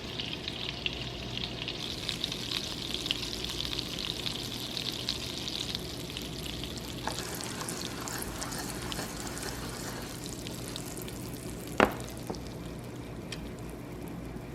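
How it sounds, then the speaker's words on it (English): Butter browning in a pan gives a faint, steady sizzle and soft bubbling, with a sharp utensil tap near the end; no one speaks. "so it's actually now become brown butter"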